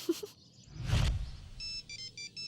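A mobile phone rings in short repeated bursts of bright electronic tones near the end, following a few indistinct rustles and a low thump, fairly faint and with no speech.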